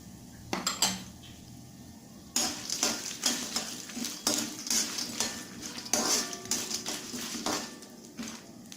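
Black peppercorns, cumin, urad dal and peanuts dry-roast in a pan for broken rice moong dal upma, with sharp clinks and scrapes of a metal spoon against the pan, quite close, in irregular bursts with a faint sizzle between.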